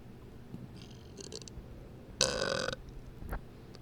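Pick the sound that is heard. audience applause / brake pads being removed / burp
burp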